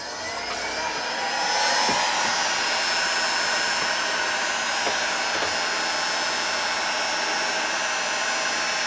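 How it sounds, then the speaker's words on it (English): A heat gun with adjustable temperature control blows hot air at 160 degrees F in a steady, loud, broadband whoosh that rises slightly at the start and then holds constant throughout. "I've got a temperature gun here which has a adjustable temperature control on it"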